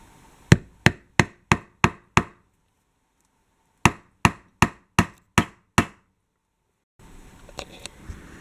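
Nail hammered into an interior wall while building a homemade decoration: two close, loud runs of six sharp, evenly spaced blows separated by a pause, followed by faint rustling.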